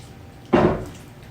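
A metal spoon scrapes around the inside edge of a hollowed tomato while making Italian stuffed tomatoes, one short, soft scooping rasp lasting about a quarter second against a quiet kitchen background.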